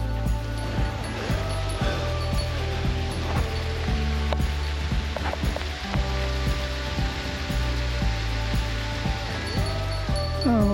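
A waterfall in the Danube valley in Tuttlingen district rushes in a steady, loud broadband roar throughout, heard from a bicycle ride with a constant hum layered underneath.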